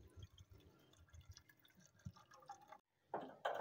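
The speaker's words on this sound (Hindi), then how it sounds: "अब इसमें एक कप पानी डाल देंगे।" A cup of water is poured into a pot of peas in a home kitchen, with quiet drips and small splashes, a pause, then a louder burst of pouring near the end.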